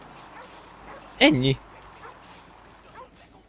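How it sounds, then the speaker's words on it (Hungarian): A dog in Grand Theft Auto V gives a single short bark, loud and close, while someone talks quietly before and after it. "Itt egy kutyus."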